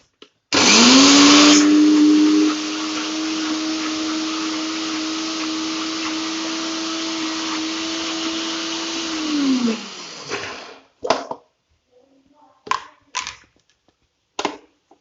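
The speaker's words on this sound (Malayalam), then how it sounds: "ഇങ്ങനെ ഫുള്ളായിട്ട് അരച്ചെടുക്കാം" A kitchen mixer grinder whirs loudly for about nine seconds, grinding lentils for parippu vada, then winds down and stops, followed by a few short clattering pulses and handling knocks.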